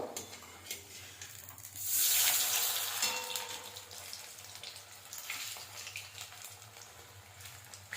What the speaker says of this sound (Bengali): কোপ্তাগুলোকে উল্টে পাল্টে ভেজে নিতে হবে